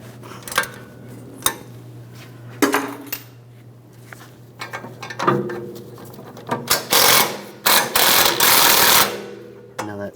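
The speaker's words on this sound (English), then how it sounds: "I'm going to use a 14mm socket." A 14mm socket on a ratchet loosening the lower sway bar link nut on a 1997-2001 Honda CR-V, with scattered clicks and metallic clatter, a few bursts of rapid ratcheting near the end, and a steady low hum beneath.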